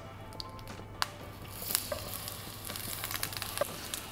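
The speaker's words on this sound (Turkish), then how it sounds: "Şimdi patlıcanlarımızı mühürleyeceğiz." Eggplant slices searing in a pan with a small amount of vegetable oil, giving a steady close sizzle and crackle with a few sharp taps from handling.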